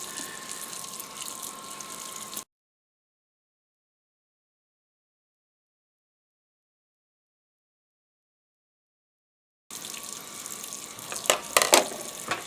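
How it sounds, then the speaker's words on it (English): Tap water runs steadily into a sink over tie-dyed shirts being rinsed, a close, even rush that cuts out into a long silence, then returns with sharper splashes and spatters. "as the water runs on it, it can kind of just fill up the sink here"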